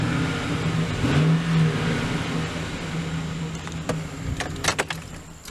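A 2008 Chevy Silverado 1500 pickup engine with over 213,000 miles idles with a steady low hum, close and moderately loud, with a few brief clicks and knocks near the end and no talking.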